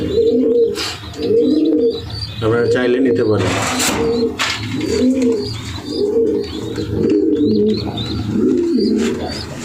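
Racer pigeons coo loudly and close in a repeating rolling rhythm of throaty bursts, with someone speaking between and over the calls and a few sharp rustles or flaps.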